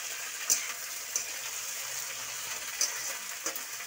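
Pumpkin and eggplant pieces fry in a pan, giving a steady close hiss of sizzling oil broken by a few sharp pops and spatula taps.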